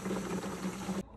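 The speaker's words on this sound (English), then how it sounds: "I'm just gonna fill this little guy right here with hot water." A spin mop bucket being filled with hot water from a tap, a steady close rushing pour that runs continuously and then cuts off abruptly near the end.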